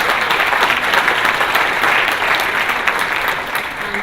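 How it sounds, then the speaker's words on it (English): Audience applause at a graduate assistant orientation, a sustained burst of dense clapping from a room full of people, loud and close, tapering slightly toward the end. "let's thank them and give them a round of applause"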